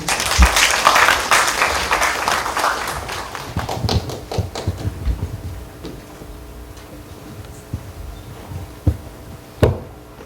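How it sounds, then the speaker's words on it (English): Audience applause at a conference opening ceremony, loud clapping at first that thins out into scattered claps and tapering taps, with a few isolated louder claps near the end. "The biggest applause, please."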